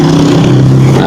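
A loud, close motorized tricycle engine drones steadily with a rough, even hum for a brief moment, with no speech.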